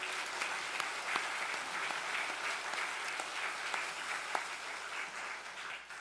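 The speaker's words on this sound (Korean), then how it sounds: "다시 한번 우리 힘찬 격려의 박수 보내겠습니다" Congregation in a Sunday church service claps for the choir and its conductor, a steady, fairly soft round of applause from a room full of people, continuous for several seconds with no talking.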